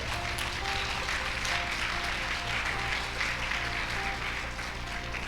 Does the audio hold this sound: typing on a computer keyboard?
no